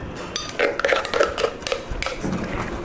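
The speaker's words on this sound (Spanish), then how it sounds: "Mezclamos y agregamos el aderezo." Egg and surimi salad being mixed with dressing in a bowl, close scraping and clinking of a utensil against the bowl in irregular strokes, with no talking.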